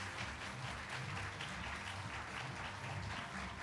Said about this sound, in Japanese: キャスト監督の皆さんに改めて大きな拍手お願いします